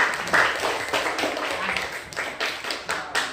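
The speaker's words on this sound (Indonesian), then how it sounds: "Tepuk tangan sekali lagi" A classroom of students claps for a student group in an Indonesian school lesson, uneven hand claps and taps in loose bursts that thin out toward the end.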